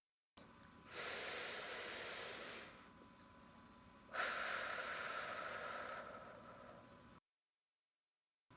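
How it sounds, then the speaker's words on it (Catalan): Gentle, slow breathing during a muscle relaxation exercise: two long, soft airy breaths, each lasting a couple of seconds, heard close and alone in a quiet room. "Respiro suaument."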